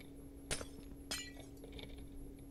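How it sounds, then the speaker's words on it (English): Glass blocks breaking in the video game Minecraft: two quiet, crisp shattering tinkles about half a second apart, each brief and bright against a faint steady hum. "Should I just break this glass?"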